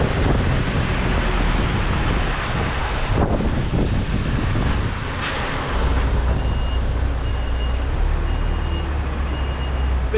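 A truck making a three-point turn to get into position for loading, its reversing alarm beeping steadily under strong wind buffeting the microphone and a continuous low engine rumble.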